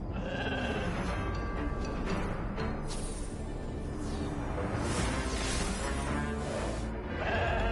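Cartoonish sheep bleats from the video game Infinity Nikki ring out over busy game music and sound effects, repeating throughout.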